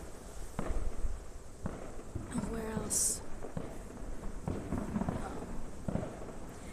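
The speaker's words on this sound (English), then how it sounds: "If you guys can hear, it's the fireworks." Outdoor fireworks go off in a few distant, muffled booms and crackles at irregular intervals during a live stream. A person talks over them and the background stays noisy.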